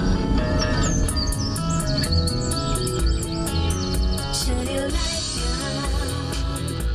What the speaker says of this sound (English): This bird is flying.